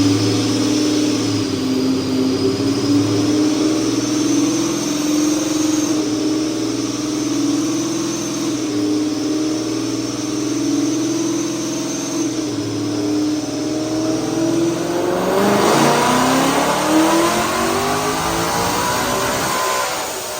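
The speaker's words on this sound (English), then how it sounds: "Check out the dyno pull." A supercharged Coyote-swapped 1965 Mustang running on a dyno, a sustained engine drone that holds steady, then climbs sharply in pitch as revs build toward a loud peak, with a high supercharger whine above.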